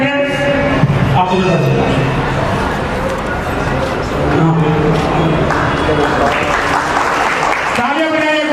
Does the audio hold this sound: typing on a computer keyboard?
no